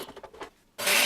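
A blender whirs to life to purée garlic and onion for barbecue sauce, a loud, steady motor roar that cuts in abruptly near the end after a few soft clunks and rattles.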